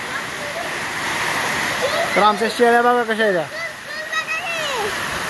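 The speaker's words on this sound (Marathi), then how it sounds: "आज बेसुमार पाऊस पडायला लागलेला आहे." Heavy rain pours steadily at a rural home, a constant broad hiss running throughout while someone speaks over it in the middle of the clip.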